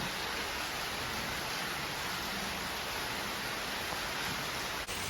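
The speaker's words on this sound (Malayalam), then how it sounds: "നല്ല മഴയാണ് മഴ കണ്ടുകൊണ്ട് ഞങ്ങളിങ്ങനെ ഇരിക്കുകയാണ്" Heavy monsoon rain pours in a steady, dense roar that stays unchanged throughout, with no voices or other sounds breaking through.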